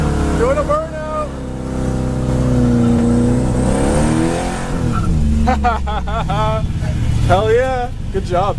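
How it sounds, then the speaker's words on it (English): A truck does a burnout, its engine revving up and down in loud, close surges as the pitch climbs and falls in several quick bursts near the end. "Doing a burnout."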